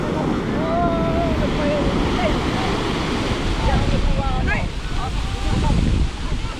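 Large ocean waves crash and roar continuously at a traditional net-fishing site, with wind buffeting the microphone and people talking over the surf.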